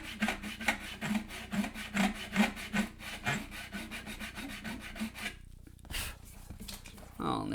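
Fret Fixer sandpaper rubs back and forth across guitar frets in steady rhythmic strokes, close and fairly loud, stopping near the end.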